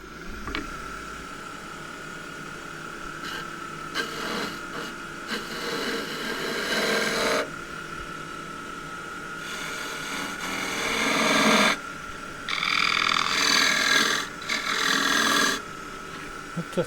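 A 23-inch spruce goblet turning on a wood lathe gives a continuous rasping hiss of the gouge cutting, in bursts of varying intensity separated by quieter running stretches.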